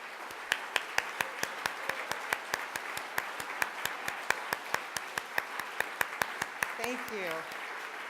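A museum audience at a volunteer appreciation event claps for first-year volunteers, a steady run of sharp, evenly spaced near claps dominating, with a voice briefly speaking near the end.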